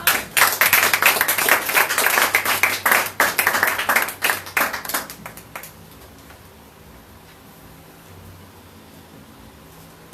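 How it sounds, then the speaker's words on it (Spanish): A church congregation claps for the Lord at a sermon on true repentance, dense loud applause for about five seconds that thins out and fades into quiet room noise. "¿Cuánto dan un aplauso al Señor?"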